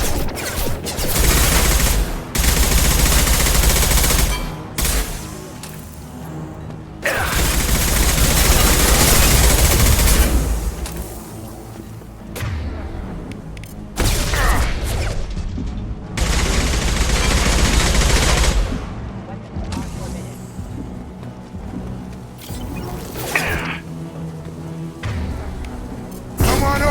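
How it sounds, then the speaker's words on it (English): Mechs in Mass Effect fire sustained machine-gun bursts in long, loud volleys separated by short pauses, with heavy thumps underneath and no talking. "His mechs shoot without question."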